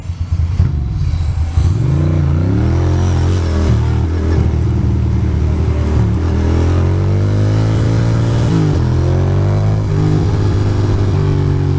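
A Ducati motorcycle rides through Brooklyn streets, its engine loud and close, rising and falling through gear changes as it accelerates, steady throughout with no talking.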